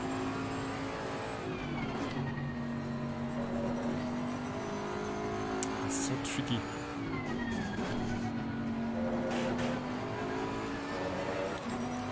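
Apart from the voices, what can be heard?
race car engine in Assetto Corsa Competizione video game at Brands Hatch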